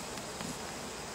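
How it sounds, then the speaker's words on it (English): Honeybees hum inside an opened beehive infected with American foulbrood, a quiet, steady, dense buzz of many insects with no talk and no distinct individual sounds standing out. "Well, it's full of bees."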